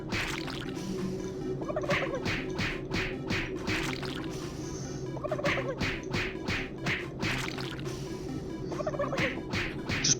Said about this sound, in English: Just whacking them turkeys.